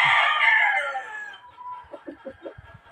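Raptor Sweater gamefowl rooster giving one loud, close crow that trails off, followed by a few soft clucks.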